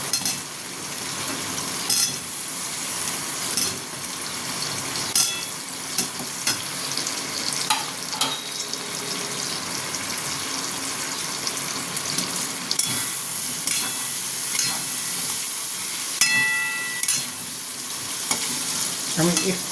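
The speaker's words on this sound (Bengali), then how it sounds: "কচুগুলো মশলার সঙ্গেই কষবো, তাহলে কচুটা সেদ্ধ হয়ে যাবে।" Taro pieces being stirred and fried with spices in a pan, a continuous bright sizzle with repeated scraping and clinking of a spoon against the pan throughout.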